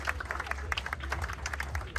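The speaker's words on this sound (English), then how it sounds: "Big round of applause, everybody." Soft, scattered clapping from a crowd at the opening ceremony of Singapore's Hume MRT station, applauding student handbell performers; the applause is faint and distant, with sharp individual claps over a low rumble.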